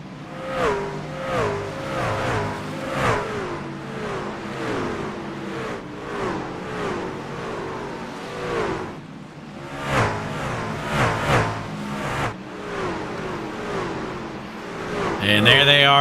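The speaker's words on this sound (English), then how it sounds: "We'll just tune in and listen to the sounds of the speedway" Race trucks roar around Bristol speedway during the Thunder Valley 250, engines droning and swelling in repeated passes with rising and falling pitch, loud and continuous, building to a stronger surge near the end.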